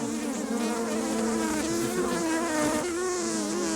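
Honeybees hum around an open hive at an apiary in Touraine, a dense, steady buzzing swarm close to the listener, wavering slightly in pitch with no voices.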